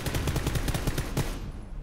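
Rapid bursts of gunfire in the battle royale game PUBG, loud and close with dense repeated shots for over a second before trailing off.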